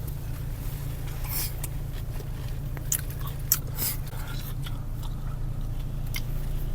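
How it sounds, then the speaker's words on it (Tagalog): Someone bites and chews a raw onion up close, making crisp crunchy bites and wet chewing over a steady low hum. "Try nyo din kumain ng sibuyas."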